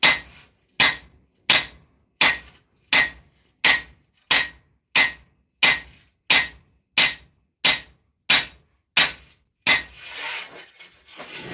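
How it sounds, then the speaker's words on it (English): A hammer forges the bevels of a steel sword blade: about fourteen loud, evenly spaced ringing blows land roughly every 0.7 seconds, followed by a short rustle of handling as the striking stops. "Just forge down these bevels some more."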